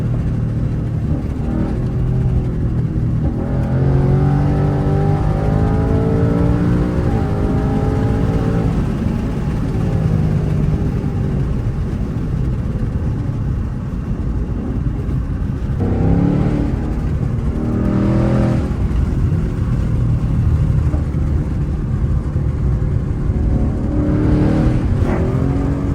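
An S650 Mustang GT engine revs up and down continuously, with rising pitch sweeps and brief drops between gears, loud and close throughout.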